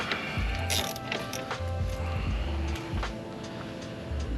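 A ratchet wrench tightens an axle part on a Porsche 996/997, giving quick repeated clicking strokes in short bursts, close up and moderately loud.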